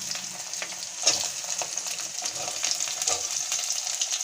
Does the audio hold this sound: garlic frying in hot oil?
yes